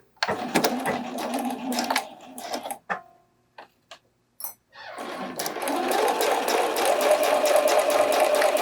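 A home sewing machine stitches the curved dart of a bralette in straight stitch, running in bursts with a short stop-start stretch of quiet before a longer steady run, close by.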